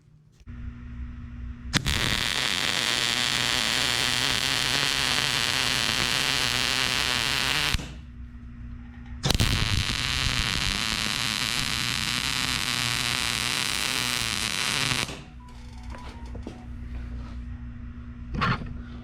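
MIG welding tabs and slots on a steel weld table produces two long, loud, even hissing crackle runs of about six seconds each, separated by a brief pause, over a low background hum.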